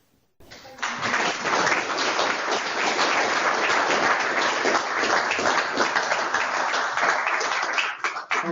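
An audience at an evening talk on HMS Antelope's Falklands war breaks into loud, sustained applause that starts abruptly and carries on evenly for about eight seconds of dense clapping.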